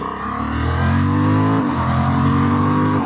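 A 2026 Honda Hornet 750 with E-clutch accelerates hard, its engine note climbing steadily, dropping briefly at a gear change and then rising again, loud and close with no talk.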